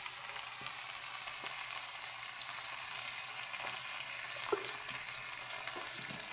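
Black beans and salsa cook in a single pot with a soft, steady sizzling hiss that stays low and even throughout, one faint knock partway through and no voices.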